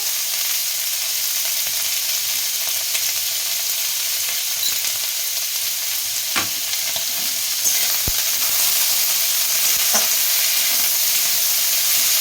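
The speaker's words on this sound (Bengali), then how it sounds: "নেড়ে ফেড়ে ভেজে দিচ্ছি একটু" Vegetables stir-frying in a pan for egg chowmein, a loud continuous sizzle and hiss up close with occasional sharp scrapes and clicks of stirring, no voices.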